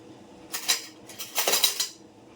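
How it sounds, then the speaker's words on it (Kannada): Metal utensils clink against a kadai while ghee is spooned in for wheat halwa, two short bursts of bright scraping and tapping close by, with no talking. "ಕಡಾಯಿಗೆ ತುಪ್ಪ ಹಾಕು ಸ್ವಲ್ಪ"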